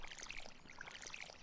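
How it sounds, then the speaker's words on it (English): Water pours from a watering can onto crops in Stardew Valley, a soft, quiet trickling splash repeating in short bursts over faint background music. "So let's water these crops."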